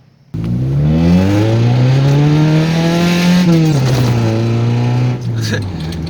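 A Nissan Silvia launches in first gear on wet ground with its wheels spinning a little, the engine revving loud and close, rising in pitch, dipping at a shift and then pulling hard again.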